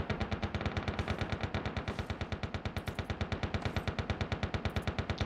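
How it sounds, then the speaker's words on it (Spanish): Sustained automatic gunfire in the video game Lost Light, a rapid, evenly spaced burst of loud, close shots firing without a break. "¿Quién está disparando por allá?"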